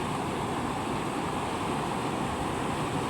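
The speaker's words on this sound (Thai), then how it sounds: "น้ำไหลเร็วและแรงมากนะครับ" Fast, strong floodwater rushes past a village road near Phra That Saen Hai in Wiang Haeng, Chiang Mai, a loud continuous roaring wash of water with no pauses and no voices.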